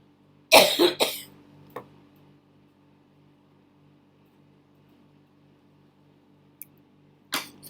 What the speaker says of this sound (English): I took the water, went in wrong way and I coughed.